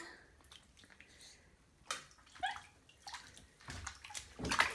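A small girl splashes water in a bathtub, a scattering of quiet slaps, drips and sloshes in uneven bursts, close and growing livelier toward the end.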